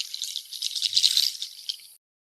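Water drips during a shamanic ayahuasca ceremony in Tirana, a brief, close patter of light crisp droplets that lasts about two seconds and then stops.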